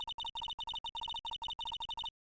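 Telephone tone sounding in quick, uneven bursts of two stacked pitches, like rapid dialing beeps, fairly quiet and alone, then cutting to silence at the end.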